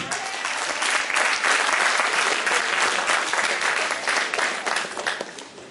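A church congregation bursts into sustained, loud applause that fills the room evenly for several seconds during a New Year's Eve evening service, then slowly tapers.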